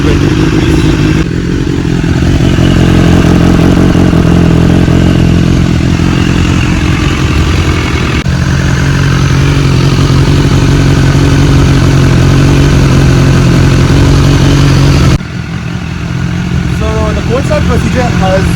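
A BMW S1000RR motorcycle idles loud and close after a cold start, holding a steady, raspy, high idle that dips briefly once near the end.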